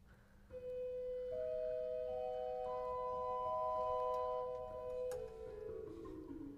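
Virtual organ on the swell manual with the bordone stop drawn, sounding quiet, soft sustained flute-like notes that enter one after another and stack into a held chord, alone over faint background noise.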